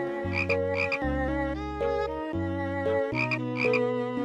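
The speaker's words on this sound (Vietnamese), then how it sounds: "Đồ chơi ọp oạt nha mọi người" A toy frog croaks in a repeating sequence of tonal, buzzy notes, close and steady with no voices.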